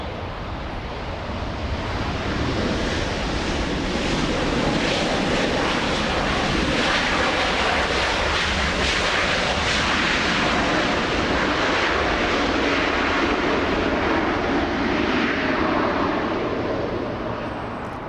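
Delta Airbus A321neo airliner arriving to land, a loud, continuous jet engine roar that swells and holds steady as the plane passes close, then eases slightly at the end, with no talk.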